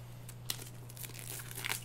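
Shrink wrap is torn along the seam off a boxed set of Kingdom Death Monster game cards, a short close crinkling and tearing with one small sharp snap, quiet and with no talking.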